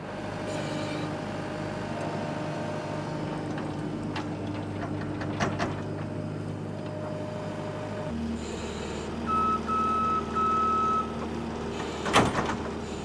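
A skid loader maneuvers a trailer with a skid hitch, its engine droning steadily close by while a reversing beep sounds briefly, with a few clanks and a sharp metallic knock near the end.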